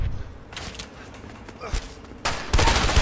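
Bursts of police gunfire ring out in the video game A Way Out, with loud shots clustering near the middle and a heavier volley toward the end, mixed with game sounds.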